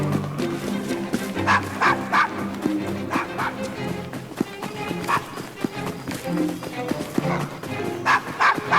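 A dog barks in short bursts inside the video game Assassin's Creed Syndicate, yapping several times over steady background game sounds and footsteps.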